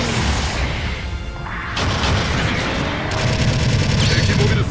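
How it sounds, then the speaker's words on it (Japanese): Supporting artillery bombardment in the mobile suit game Gundam Battle Operation 2, a dense, continuous barrage of overlapping blasts and crackling gunfire with heavy low rumble, loud and chaotic throughout with sudden sharper impacts near the middle. "後方部隊からの砲撃が始まった。"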